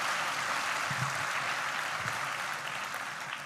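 Sustained audience applause for a panel of speakers at a women's conversation forum in Nuevo León, a dense, steady wash of clapping that holds for several seconds and tapers slightly toward the end.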